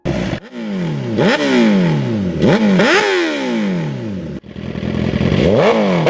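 A 2019 Suzuki superbike engine is revved hard several times, each loud, close blip climbing sharply and dropping back, with a brief dip before the final rev and no talk over it.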